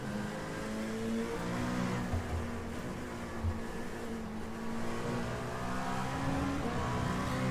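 Race car engines roar in a Sebring endurance racing video game, a sustained mid-level engine drone with shifting pitch as the car accelerates, steady throughout without speech.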